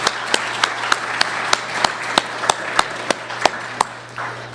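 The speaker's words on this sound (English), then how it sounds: "I think we should give him another round of applause" Lecture audience applause comes through as a sparse, slow run of distinct hand claps, roughly evenly spaced and fairly close, over a low steady room hum.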